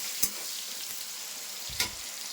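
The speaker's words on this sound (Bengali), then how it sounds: "পেঁয়াজটা একটু লাল লাল করে ভেজে নেব" Chopped onion frying in a pan in a home kitchen, a steady soft sizzle with two brief stirring scrapes.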